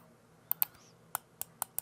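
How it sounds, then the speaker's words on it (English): Six sharp, mouse-like clicks from the ZL trigger of a NYXI Wizard controller, pressed in an irregular rhythm, close and crisp against a quiet background with no talk. "You hear that? It's like a mouse click. That's the trigger."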